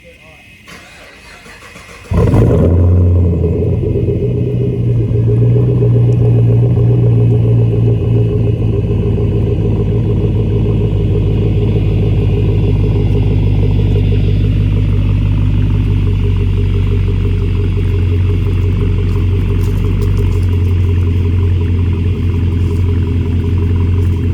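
Pontiac G8 GT engine cranking briefly, then catching into a loud, steady idle rumble that runs on close by after a quieter opening.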